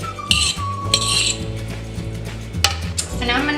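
Quinoa salad tossed in a bowl with a utensil, close clinks and scrapes of metal against the dish in a loose irregular rhythm, with a low hum and faint voice in the background.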